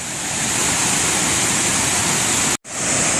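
Carp River Falls near Marquette, Michigan, roars as a loud, steady wash of falling water, close and constant, broken only by a brief dropout near the end.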